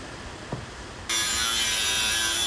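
A power grinder works the wood of a custom picnic table, switching on abruptly after a quiet lead-in and then running as a loud, steady, close-up whine with no talk.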